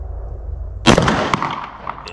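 A single loud, sharp gunshot from a Glock 29 Gen 5 pistol on an outdoor target range, cracking suddenly after a quiet stretch and trailing off into a ringing echo.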